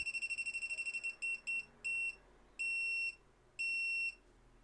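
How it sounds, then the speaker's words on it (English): A KAIWEETS KTL01 voltage tester beeps electronically, first a quick run of short beeps, then longer, spaced tones; shrill and clear with a quiet background. "the beeping becomes faster"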